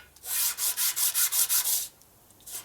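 A warped Harley 1965 panhead 74ci FLH engine part is hand sanded in a quick, even rhythm of about eight scratchy back-and-forth strokes, close and clear, followed by one lighter stroke after a short pause.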